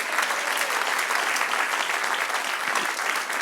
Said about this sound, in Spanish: Denle un aplauso al que reina.